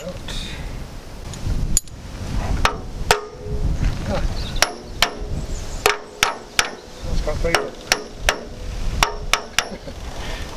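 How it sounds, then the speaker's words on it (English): A copper mallet strikes a splined Land Rover Series 3 part in a run of about a dozen sharp, ringing metallic blows at an uneven pace, close by, with some talk in between. "if I hit them with my copper mallet here"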